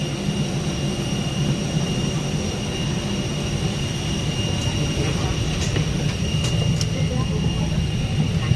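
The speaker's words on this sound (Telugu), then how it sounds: "క్లోజ్ అయిపోగానే స్టార్ట్ అయిపోతుంది ఇంకా ఫ్లైట్" Steady low roar of IndiGo airliner engines spooling up at the gate before takeoff, a continuous broadband rumble heard from inside the cabin with faint higher whine, unchanging in loudness throughout.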